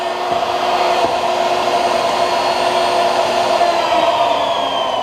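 A power tool whines steadily at close range, cutting a tenon on a wooden table apron with a continuous high motor drone and no talking.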